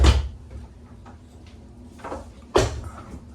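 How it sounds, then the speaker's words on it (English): A cabin door aboard an Island Packet 439 sailboat is unlatched and pulled open, with a click, a soft creak and a final knock, nearby and otherwise quiet. "let me open up the door."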